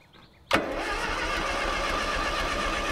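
A tractor engine cranks and fires on the key, catching with a sharp onset and settling straight into a steady, even running note close by.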